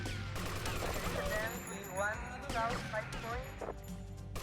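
Gunfire in GTA Vice City during a nightclub fight, sharp repeated shots sounding moderately close under overlapping talking voices and background game noise.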